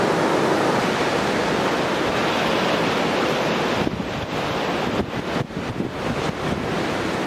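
Savage winter surf crashing on an Aberdeenshire shore at night, a steady loud roar of breaking waves with wind buffeting the microphone and heavier surges toward the end.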